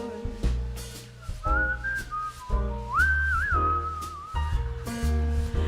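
Someone whistles a short, bright melody over a rhythmic backing track, the tune rising and holding a few sustained notes.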